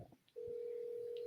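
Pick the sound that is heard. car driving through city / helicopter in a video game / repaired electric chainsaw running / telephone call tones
telephone call tones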